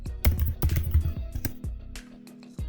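Fingers tap out a quick run of keystrokes on a computer keyboard, with sharp, close clicks coming in bursts and then a short pause before one final key press.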